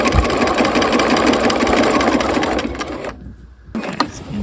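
Sewing machine stitching across a bound buttonhole on a half-scale jacket, with a fast, even mechanical whir close by, a short stop near the end, then a few more stitches.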